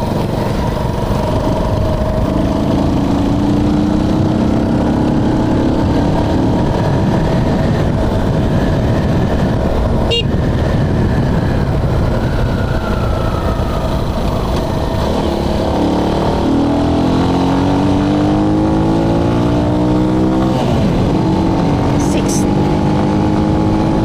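A carbureted Flash 150 motorcycle with a 16/36 sprocket pulls hard in third gear at around 90 km/h, its engine droning loudly and continuously with wind roar and rising and falling pitch throughout.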